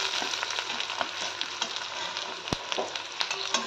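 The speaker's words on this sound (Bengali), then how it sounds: "তেলটাতে দেখো গোটা গোটা রসুন আর গোটা গোটা পেঁয়াজ দিলাম। আর একটু ভেজে, বেশি ভাজবো না" Whole garlic cloves and whole onions fry in oil left from frying small fish, giving a steady close crackling sizzle with light spatter pops and an occasional stirring clink.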